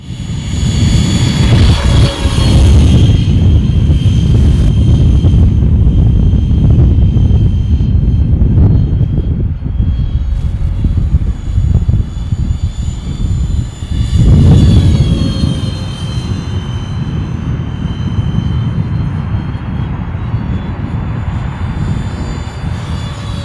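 An Art-Tech F-14 radio-controlled model jet, battery powered, flies and climbs overhead. Its motor gives a loud, sustained whine that surges and dips as it passes and turns, with no voices.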